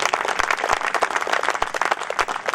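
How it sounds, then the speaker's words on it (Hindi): An audience at a Hindi poetry recitation by Dr. Sunil Jogi breaks into steady, dense applause, many hands clapping together in a continuous roar with a few sharper claps standing out. "एक बार और तालियां बजाइए।"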